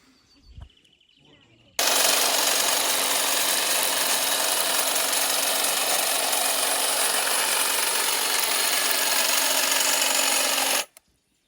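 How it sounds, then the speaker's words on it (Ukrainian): A Procraft hedge trimmer cutting branches runs loudly and continuously for about nine seconds, a harsh buzzing motor with rattling blades, starting and stopping abruptly. "Цей кущоріз йде вже, звісно, серйозніший."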